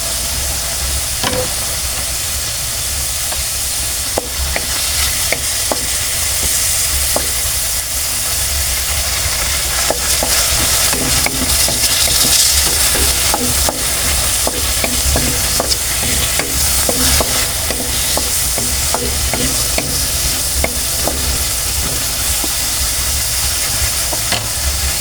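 Tomato frying for adobong tokwa, sizzling steadily in a hot pan while a spoon scrapes and stirs in repeated clinks, loud and close with no talk.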